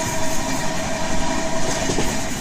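Arunachal AC Superfast Express (22412) on its Rangapara North to Gorakhpur run, a steady loud rumble of wheels on rails with faint clickety-clack, heard from on board and continuous throughout.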